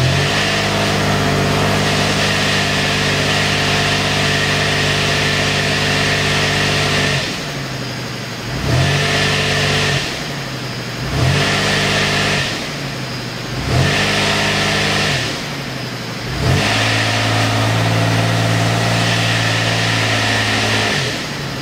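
A car engine held against the brakes for brake torquing, revving hard in steady bursts: one long loud run, then four shorter surges with brief drops to idle between them, close and alone.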